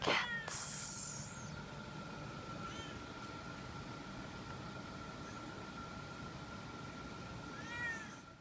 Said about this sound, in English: No, they're not kittens. These are cats.